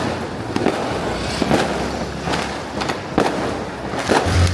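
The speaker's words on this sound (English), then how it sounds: "This person is just shooting fireworks like out their window" Chinese New Year fireworks and firecrackers going off along a street in Penang, Malaysia, with sharp bangs at irregular intervals over a constant crackling din from nearby and distant launches.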